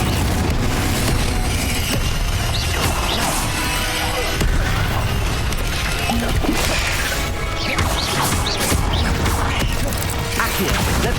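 Repeated Confringo spell blasts in Hogwarts Legacy pile up into a continuous, loud barrage of crashing, smashing impacts and booms with no pause.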